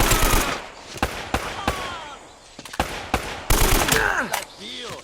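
Rapid machine gun bursts and scattered gunshots from combat in the video game Uncharted: Drake's Fortune, loud and close, with sharp cracks repeating over a busy background of gunfire and game effects.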